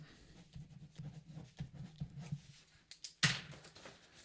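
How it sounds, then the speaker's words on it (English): A pen writing on a piece of paper, quiet close scratching strokes in an uneven rhythm, ending in a sharper, louder paper rustle. "I have this piece of paper here and I wrote the word anger on it"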